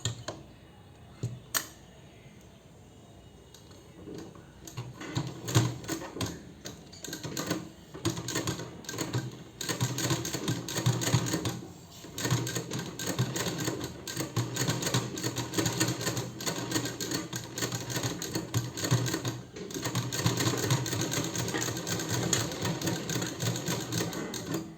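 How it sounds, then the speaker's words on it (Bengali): A sewing machine stitches a dress in quick, steady rattling bursts, close and clear, with short pauses between runs of stitching and no talk over it. "আবার এই মুখটার মধ্যে আমি আবার এটাকে সেলাই করে দেবো।"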